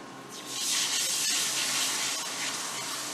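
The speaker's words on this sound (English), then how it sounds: "So now I'm going to go ahead and add my beef broth." Beef broth pours steadily into a pan for a few seconds, a loud, close, continuous splashing rush with no talking.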